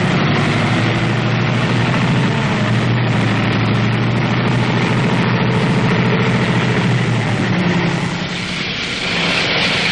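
A WW2 tank engine roars loud and steady at close range as the tank spins itself off a stump, with heavy low rumble and broad mechanical noise that eases slightly near the end.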